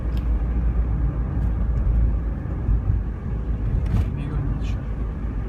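Steady low rumble of a roughly 40-horsepower car engine and road noise from inside the moving vehicle, continuous and fairly loud.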